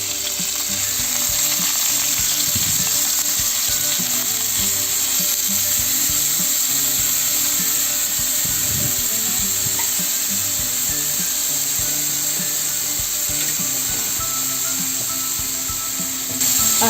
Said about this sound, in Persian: میایم یک کم روغن دیگه اضافه میکنیم و پیاز رنده شده‌مون رو